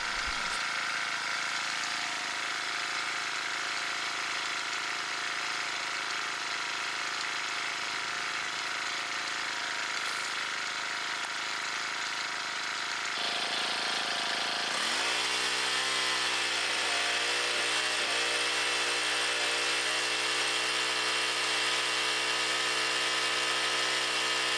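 A small gas engine driving a capstan winch runs steadily and loudly throughout, a continuous high buzzing drone that shifts to a lower, steadier pitch partway through as if the load or throttle changes.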